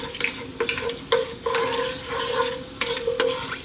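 Whole cloves, cumin seeds, green cardamom pods, bay leaf, dried lemon and dried chili sizzle in hot oil, with a steady frying hiss broken by several brief stirring scrapes and clatters close up.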